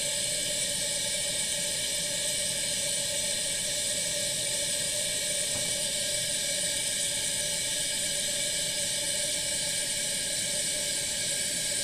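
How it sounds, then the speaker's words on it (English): The auxiliary burner of a 1938 Primus 77 stove gives a steady, continuous hiss at close range. It stays even throughout, with no talk over it. "The auxiliary burner."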